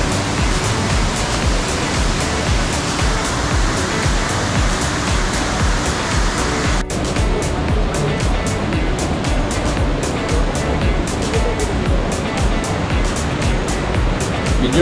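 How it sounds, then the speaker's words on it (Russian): A waterfall in Sri Lanka roars as a loud, continuous broadband rush of falling water, steady and close throughout, with a brief dropout midway. "Идем, подберемся ближе к водопаду."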